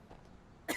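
A man gives one short, sharp cough near the end, after a stretch of quiet background.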